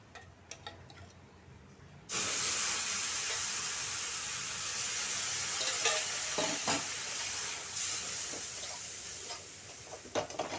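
Sweet pulao with cashews, raisins and milk sizzles steadily in a pan after a quiet start, with repeated scraping strokes as it is stirred.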